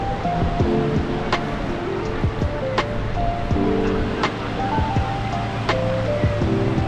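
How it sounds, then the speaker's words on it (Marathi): Sea waves wash steadily onto the beach at Nagaon on the Konkan coast, a continuous broad surf roar with faint tonal sounds and soft regular clicks layered over it, and no voices. "आणि शांत समुद्र किनारा"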